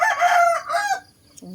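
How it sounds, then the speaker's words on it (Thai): A single loud, close rooster crow, drawn out over about a second, followed by a brief quieter cluck. "เสียงไก่ขัน"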